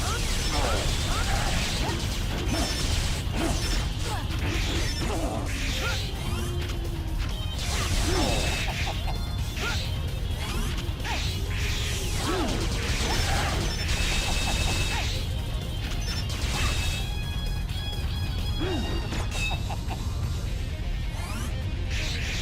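Wind Cutter weapon attacks in the Mega Man X7 video game, with repeated swishing and clanking hits over a dense, continuous bed of game music and effects, loud and steady throughout.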